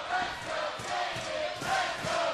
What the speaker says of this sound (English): Listen to the crowd here in the DeBurns Arena